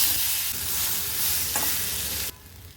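Cooked chana dal is tipped into a hot tempering of oil, asafoetida and curry leaves, producing a loud, steady sizzle with stirring, then the hiss drops sharply near the end.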